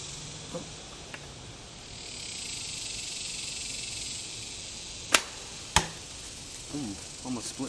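Arrows shot from a bamboo-backed red oak longbow strike a target outdoors, two sharp distinct impacts a short moment apart over a steady background hiss of insects.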